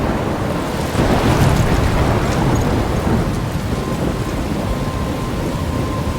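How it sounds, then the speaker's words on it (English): A heavy thunderstorm rages in the video game Life is Strange, a dense, loud roar of wind and driving rain with a deep rumbling swell of thunder early on, continuing as a steady broadband wash. "I'm trapped in a storm?"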